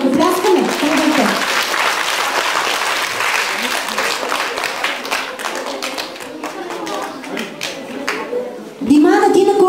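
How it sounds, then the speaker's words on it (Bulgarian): A concert audience claps steadily for a five-year-old girl about to recite a poem, with dense continuous applause filling the hall while a presenter's voice cuts in at the end. "хайде сега да посрещнем, ама с много силни аплодисменти, Димана"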